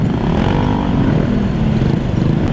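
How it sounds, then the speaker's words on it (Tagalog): Motorcycles bunched in a slow city traffic queue, a loud, steady close-up engine drone with a throaty low rumble that holds evenly throughout, with no voices. "Pila-pila talaga yung mga motor"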